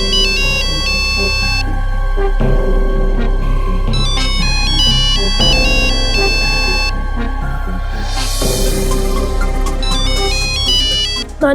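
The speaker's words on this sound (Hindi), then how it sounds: "नानी का फोन इधर।" A melodic electronic ringtone plays loudly and repeats its bright beeping tune over a steady backing, continuing for several seconds.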